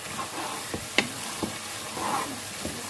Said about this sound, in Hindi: कीमे की बुनाई हो रही है, इसके साथ ही लहसुन अदरक पेस्ट ऐड कर देंगे और अच्छे से फ्राई करेंगे